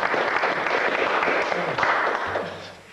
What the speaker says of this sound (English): So let the record show a round of applause.